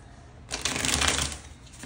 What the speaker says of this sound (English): Let's give you a good shuffle.